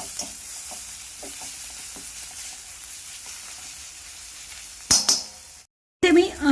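Potato masala with turmeric and coriander being sautéed in a pan. A spoon scrapes and stirs in a few soft strokes over a low sizzle, then louder clatters of utensils against the pan follow near the end.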